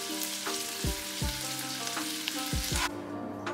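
Small shrimp for shrimp tacos frying in a pan, a close steady sizzle broken by several low thuds and clatters, over faint background music.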